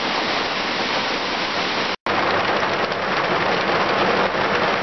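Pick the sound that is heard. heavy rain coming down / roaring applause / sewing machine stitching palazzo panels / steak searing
heavy rain coming down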